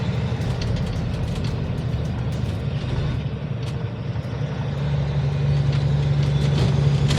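A truck engine idles steadily and fairly quietly after a major exhaust leak was repaired, a smooth continuous low rumble with a faint steady hum throughout and no voices.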